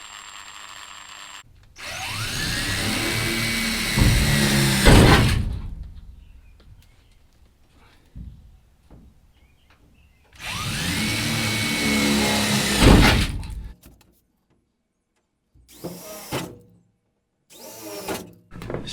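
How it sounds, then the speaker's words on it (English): A jigsaw cuts an opening for a MaxxFan roof vent in the metal roof of a Chevy Astro camper van, running in two loud, sustained buzzing bursts separated by quiet pauses, followed by a few shorter spurts. "get a jigsaw in there and complete the cut"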